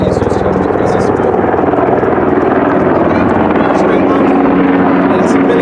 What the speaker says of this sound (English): That's military helicopter.